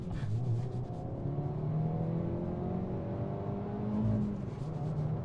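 A Hyundai i20N hot hatch with a small engine and manual gearbox pulls hard, its engine note rising steadily through the revs, then briefly dipping and climbing again as a gear changes, heard from inside the car.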